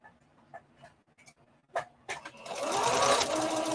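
A sewing machine backstitches a seam on a scuba fabric skater skirt, starting with a few short clicks and bursts, then settling into a loud, steady whir close up.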